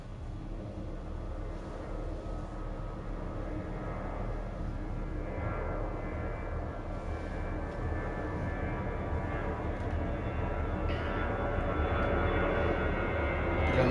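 Airplanes flying overhead in the Black Mirror video game produce a steady low droning roar that holds for the whole stretch, slowly swelling a little louder toward the end.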